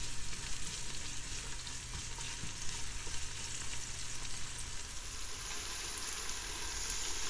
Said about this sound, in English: When it's nice and hot, I'm going to add some chopped onions and sweet peppers.